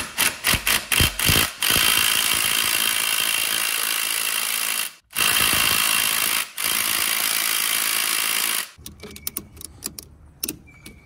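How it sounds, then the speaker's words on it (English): Loud bursts of an impact wrench hammering on a 17 millimeter nut on a KYMCO Mongoose 90 quad, several quick rattling pulses then long sustained runs broken by brief stops, ending in scattered clicks and clatter. "I was doing everything correctly with the 38 inch drive impact, would not come off."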